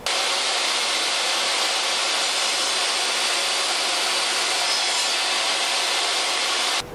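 A table saw blade makes one more pass to widen a slot while building a fret file for guitar making. A loud, continuous broadband roar holds steady for about seven seconds and then cuts off.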